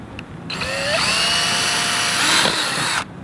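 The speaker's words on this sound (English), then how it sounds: "So I'm gonna drill a relief hole for this guy" A power drill bores a relief hole into the tail of a duck decoy, whining steadily for about two and a half seconds, rising in pitch, then stops abruptly; no talking.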